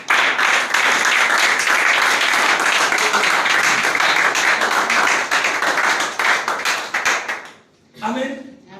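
A church congregation applauds to acclaim Jesus, dense sustained clapping filling the room for several seconds before breaking off abruptly, followed by a brief voice.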